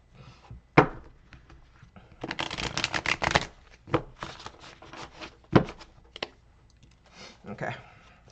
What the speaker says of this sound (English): going to shuffle it one more time